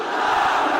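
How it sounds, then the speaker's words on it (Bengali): A large outdoor religious gathering in Gaibandha chants the takbir together, many voices in loud, sustained unison. "সবাই মিলে তিনটা তাকবীর পড়েন"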